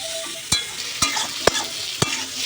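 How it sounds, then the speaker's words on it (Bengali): Meat goes into a pan of cooked-down spice paste with fried potato, giving a continuous close sizzle broken by four evenly spaced spatula scrapes and knocks; no voices. "আর এই যে মশলাটা কষিয়ে নিয়ে এখন মাংসটা দিচ্ছে।"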